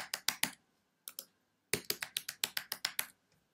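Someone types a name and password on a computer keyboard while setting up a MySQL database user: short clusters of crisp key taps, a brief pause, then a longer run of steady tapping, close and fairly quiet, with no voices.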